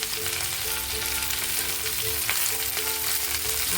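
Okra (bhindi) for aloo bhindi sizzles steadily in a hot kadai, a continuous close frying hiss with faint stirring and no talking.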